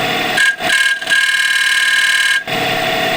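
A woodturning lathe tool cutting thin-walled wood gives a loud, continuous whining hum with a steady pitched tone, broken by brief dips as the tool lifts and recontacts; up close, with no talking.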